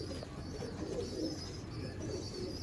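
Ferozpuri pigeons cooing softly in a loft, low repeated coos over faint background chirps and ambient hum, fairly quiet and continuous.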